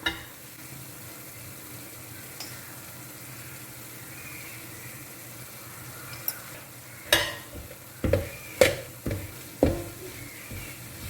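Rice flakes are stirred into jaggery in a pan over a low background hiss, with a quiet start and then a run of sharp scraping strokes coming quickly near the end.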